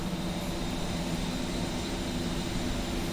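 Steady, unbroken roar of A-10C jet engines winding down at shutdown in the DCS World flight simulator, a dense broadband whine and rumble that holds constant throughout with no voices.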